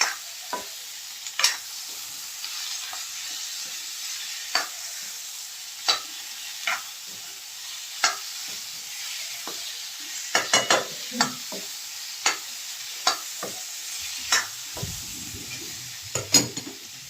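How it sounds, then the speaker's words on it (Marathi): Cauliflower is stirred into spiced masala in a frying pan. The pan sizzles steadily, and a spoon scrapes and taps against it at irregular intervals, close and clear, with no talking. "गोबीला चांगला मसाल्यामध्ये एकजीव करून घ्यायचं."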